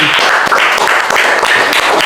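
Dense applause from a classroom audience for a presenting group, steady close-up clapping filling the whole short stretch with no speech.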